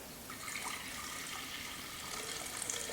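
Water pours steadily into a glass jar, a continuous, soft, hissing splash at moderate distance with no pauses and no voices.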